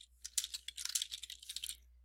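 Quick bursts of key clicks on a computer keyboard as a new folder name is typed, a short close run of light tapping with brief pauses.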